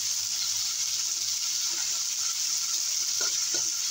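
Shrimp and dried chilies hitting hot oil in a frying pan, a continuous bright sizzle with a few sharp crackles and stirring sounds near the end, no talking.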